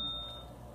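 A game show buzzer gives one brief electronic beep, short and fairly quiet, fading quickly.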